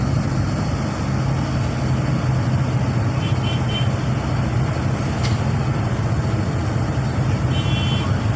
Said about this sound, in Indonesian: Campur aduk motor dan mobil, bercampur aduk nih, macet parah nih.